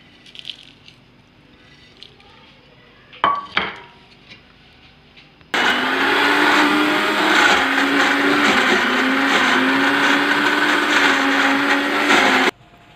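Garlic and dry spices for shawarma sauce, a few knocks and clatters of the lid and jar, then a blender switches on and grinds loudly and steadily for about seven seconds before stopping.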